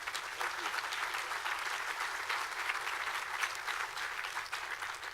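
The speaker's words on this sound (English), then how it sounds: "How about a big round of applause for John Lynch being here?" Audience applause greeting 49ers general manager John Lynch at a Bay Area college football media day, a continuous, full wash of clapping from a sizable crowd holding steady throughout.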